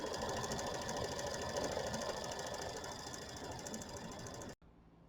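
An embroidery machine stitches a quilt design with a fast, even mechanical chatter that runs for about four and a half seconds and then stops, leaving faint room quiet.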